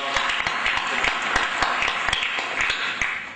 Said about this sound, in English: let's give Umesh a round of applause